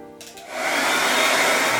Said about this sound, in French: On peut à présent sécher au sèche-cheveux.